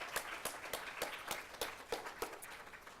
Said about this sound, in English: So we can all please give her a round of applause.